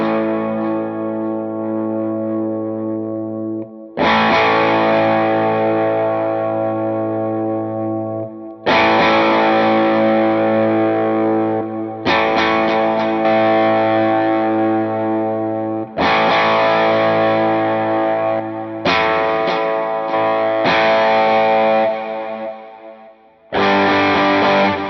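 An electric guitar plays a high-gain lead tone through a Line 6 HX Stomp in a dual-amp setup. Loud, distorted sustained chords and notes ring out in several phrases separated by abrupt stops, with chorus-like shimmer.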